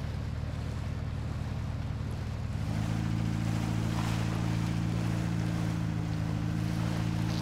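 Off-road crawler truck in Spintires MudRunner ploughing through seashore water in low gear, a steady loud engine drone with rushing, splashing water that deepens and thickens after a few seconds, continuous throughout.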